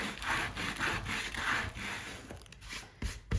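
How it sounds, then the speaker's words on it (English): Steady back-and-forth hand sanding of a wooden pallet, repeated strokes in an even rhythm, close and moderately loud, with a brief pause near the end. "Do as much or as little sanding as you like"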